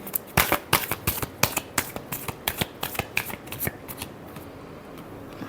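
Tarot cards are shuffled in quick, crisp riffling bursts, a rapid run of close flicks and slaps that slows and trails off toward the end; no one speaks.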